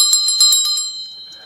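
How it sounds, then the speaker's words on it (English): A small altar bell rings with several quick, bright metallic strikes whose clear tone lingers and fades away. "I have a bell"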